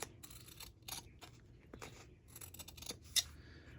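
Scissors snipping through a handmade Valentine card, quiet, close cuts in a loose rhythm with one sharper snip near the end and no talking.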